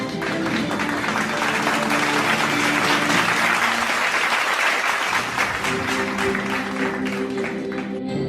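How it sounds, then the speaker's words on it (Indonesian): Sustained applause from an audience at an inauguration ceremony for a neighbourhood community leader (RW head), loud and dense throughout with steady musical tones playing underneath. "Mari kita tepuk tangan yang meriah."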